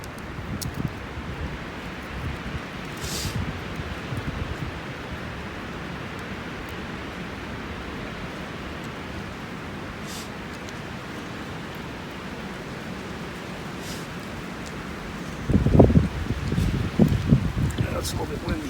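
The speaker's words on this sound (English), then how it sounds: "it's a little bit windy." Wind blows across a snowy winter campsite in a steady, soft rushing roar with faint gusts, and a burst of nearby rustling and crunching rises near the end.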